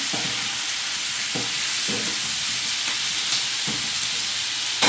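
Snacks made from dosa batter sizzle steadily in hot oil, a loud, continuous close-up frying hiss with occasional stirring knocks throughout.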